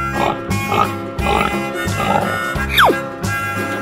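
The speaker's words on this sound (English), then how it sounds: "Pig." A pig grunts and oinks in several short bursts close by, followed by a brief high squeal, all set over a steady droning background tone.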